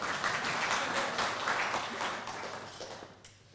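Clapping at a conference talk as a speaker is introduced, a dense patter of hand claps that starts fairly loud and gradually thins and fades over a few seconds, with no clear talking over it.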